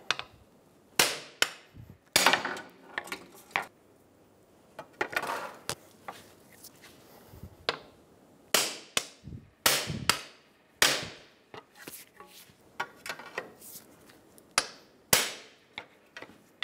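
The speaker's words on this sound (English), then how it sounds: "Using a pry bar and a hammer, we're gonna knock the axle out." Sharp metal hammer strikes ring out in irregular bursts, some in quick pairs or triplets, with short pauses between groups of blows. A hammer and pry bar knock out the front right CV axle of a 2007-2011 Toyota Camry.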